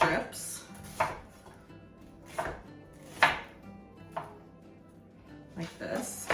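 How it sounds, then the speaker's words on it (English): A knife chops cabbage into thin strips on a cutting board for homemade sauerkraut: a run of about six sharp, close chops at uneven intervals, with quiet talking in between. "we're just gonna cut them up into strips"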